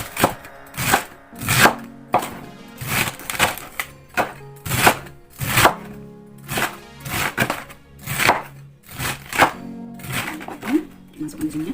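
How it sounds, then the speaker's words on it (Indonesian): Knife chopping celery and carrots on a cutting board for soup, a steady series of sharp, close thunks in irregular bursts, with a voice talking over parts of it. "aku potong-potong dulu ya"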